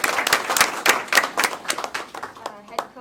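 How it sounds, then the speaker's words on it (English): A council meeting audience claps for a championship-winning youth sports team: distinct, fairly sparse handclaps in an uneven rhythm, close and moderately loud, thinning out toward the end. "let's start with a round of applause for their achievement"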